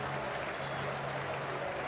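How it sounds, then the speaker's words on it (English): Football fans at a Nottingham Forest playoff match applaud the opposing Yeovil team, a faint, distant wash of steady clapping from a stadium crowd. "for fans applauding the opposition"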